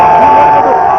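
A large gathering of students at a rally supporting Anna Hazare in Karnataka, heard as a steady, loud, dense crowd murmur filling the whole moment without distinct cheers.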